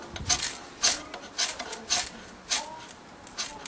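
A bushcraft knife blade is scraped to throw sparks, making about seven quick, close rasping strokes in an even rhythm against a quiet background.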